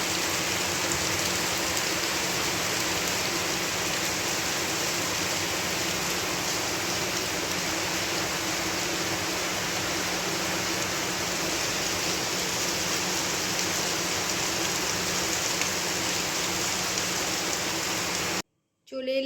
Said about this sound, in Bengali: কি মুষলধারে বৃষ্টি পড়ছে